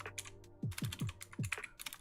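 Keys clack on a computer keyboard in quick uneven bursts, close and fairly quiet, with a low steady hum underneath and no voice.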